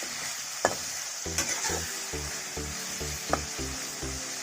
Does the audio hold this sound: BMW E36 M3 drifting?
no